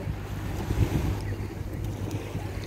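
Steady wind rushes and buffets against the microphone at the seaside in Kuwait City, with a low rumble underneath.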